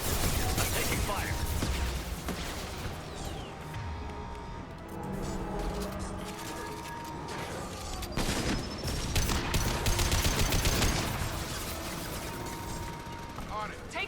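Sustained gunfire in the Mass Effect 2 combat, dense rattling bursts and mechanical clatter filling the scene continuously, with voices calling out over the shooting.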